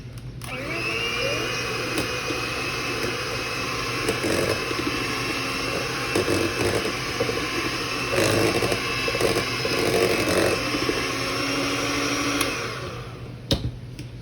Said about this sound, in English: you're going to go ahead and beat that stick of butter